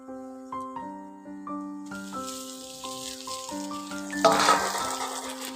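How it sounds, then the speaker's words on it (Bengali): Potatoes and pointed gourd stir-fried in a pan with fried onion and garam masala give a steady sizzling hiss that swells midway, with louder music playing over it. "আলু পটলগুলো দিয়ে ওর সঙ্গে একটু ভালো করে নাড়াচাড়া করে কষে নিচ্ছি"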